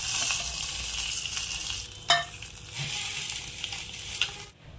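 Hot spiced tempering oil is poured into an eggplant and yogurt curry, raising a steady loud sizzle with a sharp spattering crackle midway before it quickly fades out.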